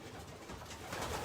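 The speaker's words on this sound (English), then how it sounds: "We race pigeons." Racing pigeons coo faintly inside a loft, a low soft burble with a hazy background and no voices.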